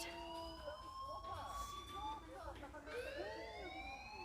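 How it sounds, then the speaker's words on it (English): Fire alarm ringing inside a school in the Life is Strange video game: steady electronic siren-like tones that sweep and hold, loud and continuous with overlapping layers throughout. "Hey, do you hear that fire alarm?"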